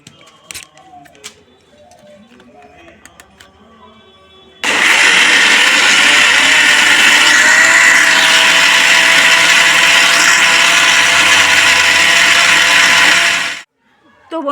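A mixer grinder whirs loudly and steadily for about nine seconds, grinding rice, lentils and a little water into a paste, after a quieter stretch of faint handling noises, then cuts off abruptly.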